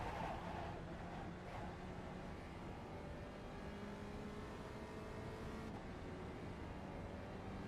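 A race car in the iRacing sim holds a steady, droning engine note through a chicane, loud and continuous, with gear and pitch shifts and no talk.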